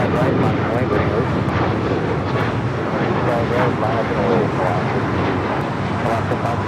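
A JetBlue jet rolls for takeoff on runway 25 right at LAX, a steady broad engine roar carried with some wind noise. Voices talk over it throughout.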